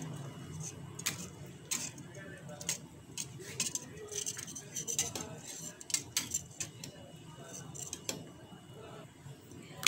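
Butter is being stirred into an ube cake mixture, with a utensil repeatedly tapping and scraping against the bowl in irregular clicks over a low background.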